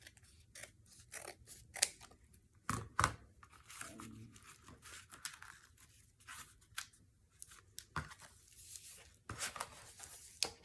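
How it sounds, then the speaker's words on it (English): Scissors trim a glued page for a junk journal, close and quiet, with repeated crisp snips and some paper rustling and tearing in irregular bursts, no talking. "I'm going to just trim that down a little once the glue grabs"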